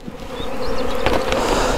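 Honeybees buzzing steadily and close while being moved from a nucleus box into a full hive, a dense continuous hum with a few brief taps.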